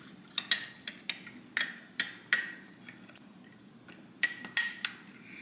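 A spoon stirs a grainy drink in a cup, producing a run of irregular metallic clinks and taps, some sharp and close, against a faint steady background hum.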